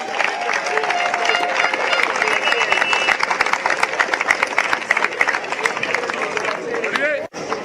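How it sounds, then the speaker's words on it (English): Audience applause at a cricket event hosted by a cricket club, a dense steady patter of many hands clapping with crowd noise throughout, ending abruptly near the close. "Can we give them a round of applause?"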